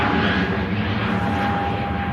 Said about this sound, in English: EasyJet climbs out.